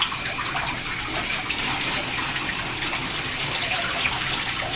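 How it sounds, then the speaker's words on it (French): Steady, loud rush of water from a shower or tap rinsing a person's back during a bath, an unbroken gush held for about five seconds with no voices over it. "Je vais rincer votre dos maintenant."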